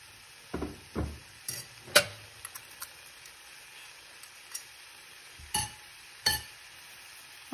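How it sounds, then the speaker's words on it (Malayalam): Spinach and salt stirred in a pan for thoran, a spoon scraping and clinking against the pan in scattered strokes over a faint sizzle, close and fairly quiet. "ഇനി നമുക്ക് സ്പിനാച്ച് ഇട്ട് കൊടുക്കാം കുറച്ച് ഉപ്പും കൂടി ചേർത്ത് നല്ലപോലെ ഒന്ന് മിക്സ് ചെയ്യാം"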